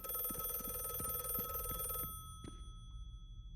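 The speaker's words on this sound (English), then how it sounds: "Should we answer the phone?" An old-fashioned telephone bell rings in the mystery game The Last Case of John Morley, a rapid metallic trill lasting about two seconds before stopping, with a faint tap afterward over a steady tonal background.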